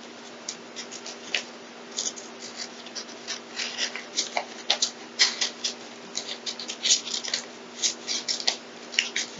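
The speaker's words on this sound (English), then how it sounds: "I'll be able to cut out the panel around" Scissors snip through a wax paper panel for a homemade lantern in a craft setting, giving many quick close crisp cuts with light crinkling in an uneven rhythm.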